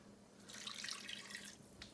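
A cup of water pours into a pan of taco meat and spice blend, a steady splashing, trickling rush that runs for about a second and a half and then stops.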